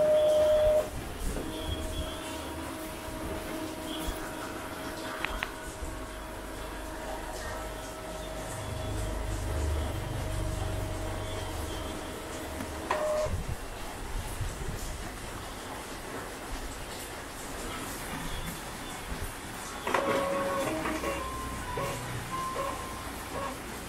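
An Epson L3110 inkjet printer with a paper feed problem runs through its cycle, giving mechanical whirring and humming with steady tones, a few clicks and a low motor rumble partway through, fairly quiet and without talk.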